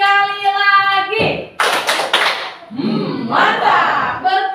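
A school class performs the 'tepuk mantap' clapping routine: a few short bursts of hand claps and slaps between stretches of a voice and children's voices, close and fairly loud.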